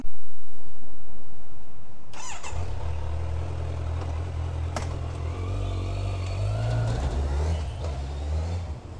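A Kawasaki Z900 motorcycle just back from its first service fires up after about two seconds of quiet, then settles into a deep, steady, close rumble with a faint rise in revs near the end.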